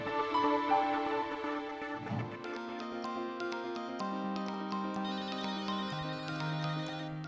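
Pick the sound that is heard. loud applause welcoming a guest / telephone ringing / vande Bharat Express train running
telephone ringing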